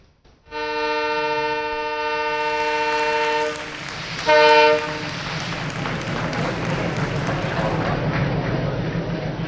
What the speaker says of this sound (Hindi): सोमवार को प्रधानमंत्री नरेंद्र मोदी ने वर्चुअल माध्यम से 100वीं किसान रेल को हरी झंडी दिखाकर रवाना किया।